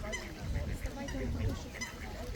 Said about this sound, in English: Look, geese.